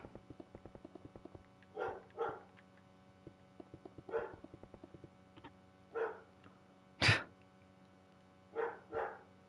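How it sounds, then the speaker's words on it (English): Faint dogs bark in the distance in short paired bursts spread evenly apart, with a sharp louder knock partway through and a steady rhythmic ticking and hum underneath. "there go the dogs barking at nothing again"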